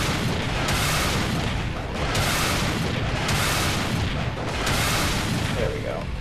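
Enemy gunfire and booming blasts from the video game Hard Corps Uprising, heavy, broadband bursts repeating in a steady pulse roughly every second over a dense, loud action soundtrack.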